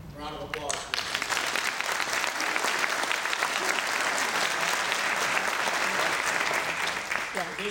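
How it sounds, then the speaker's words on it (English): Loud, sustained audience applause fills a police graduation ceremony in Anne Arundel County, dense clapping rising after a brief spoken lead-in and continuing steadily throughout. "A round of applause."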